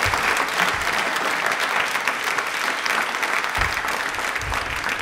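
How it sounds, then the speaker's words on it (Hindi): An audience at a tribal pride day quiz show claps hard and steadily for the children, a dense, loud burst of applause lasting the whole stretch. "तालियां एक बार जोरदार हो जाए इनके लिए पहले तो"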